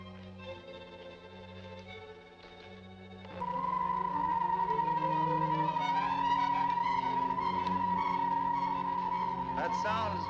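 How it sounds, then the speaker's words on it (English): A low electronic hum swells abruptly into a sustained, wavering high-pitched tone of high-frequency waves radiating through a coil resistor, like a sci-fi energy coil, layered with shifting synthetic overtones. "That sound is the high-frequency thromium waves radiating through the coil resistor."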